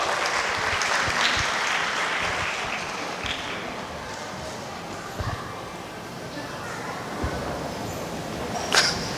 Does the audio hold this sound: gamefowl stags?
no